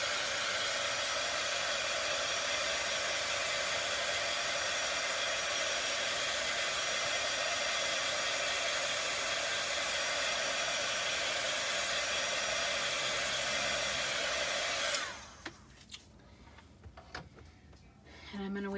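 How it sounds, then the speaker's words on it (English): A craft heat tool blows hot air over stenciled work, a loud, steady, close whirring roar that runs for about fifteen seconds, then cuts off, leaving faint handling noises before it starts up again. "I'm going to pull in my heat tool again."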